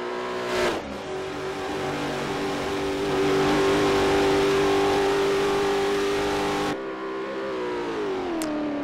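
A 2010 car with a 6.3 litre twin turbocharged V8 in Forza Horizon 5 revs hard and holds a loud, steady high-pitched engine roar, then drops off and climbs again.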